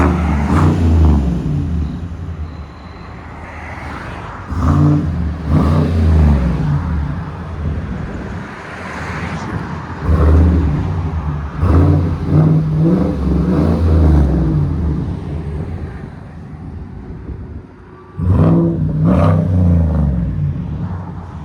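A 2023 Chevy Silverado 2500HD with a 6.6L V8 and Black Widow Race Venom exhaust revs repeatedly, close and loud, with deep rumbling bursts and short pauses between throttle blips.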